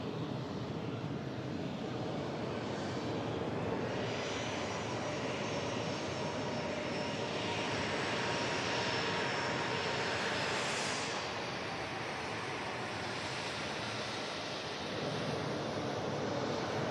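A TAP Air Portugal airliner slowly taxiing in at Manchester Airport, a steady, distant engine drone with a faint whine rising and fading as it rolls past.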